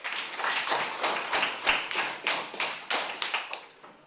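Classroom applause for a schoolchild: steady, dense clapping from a group of pupils, close and fairly loud, carrying on throughout without talk.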